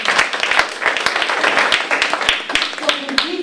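Audience clapping at a community photography project event, a lively scatter of hand claps from a modest crowd with distinct individual claps standing out, and a voice briefly audible near the end.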